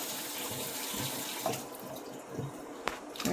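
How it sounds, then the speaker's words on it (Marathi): A cut potato goes into water in a kitchen. Soft running and splashing water continues throughout, with a couple of sharper plops partway through, with no talking. "आपण हा बटाटा पाण्यात टाकून ठेवू"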